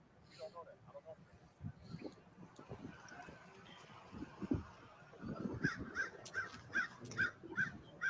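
Crows caw outdoors on a city street, a run of evenly spaced harsh calls at mid distance that follows muffled talk and street noise.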